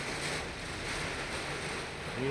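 Heavy rain and storm wind lash a coal mine in a constant loud, broadband roar, with a brief voice breaking through right at the end.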